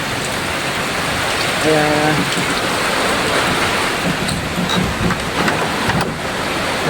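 Heavy rain and wind from Typhoon Pepito under a Signal No. 5 warning in Bicol, a steady loud downpour roaring throughout with gusty wind, while a voice speaks briefly over it.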